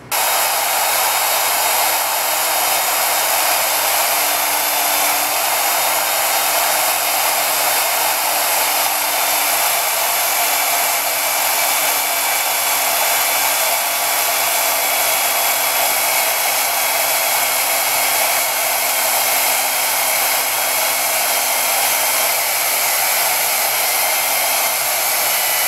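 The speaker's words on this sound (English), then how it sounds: "So the bandsaw started cutting crooked." A bandsaw slices through a large red wax blob, giving a loud, unbroken motor whir with a faint wavering tone that runs steadily throughout, no voices.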